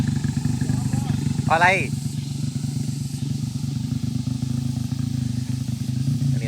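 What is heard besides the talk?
Honda motorcycles climbing a hill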